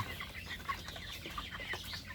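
A farm chicken clucks in a few quiet, scattered short calls at a distance, faint over a low background murmur.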